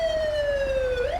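A wailing ambulance siren in GTA V sweeps steadily downward then jumps back up, loud and close over low engine rumble, with no talk.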